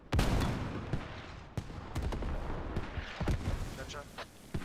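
Mortar fire in the video game Squad, with a series of sharp, heavy booms at irregular intervals, some close and loud, under people talking.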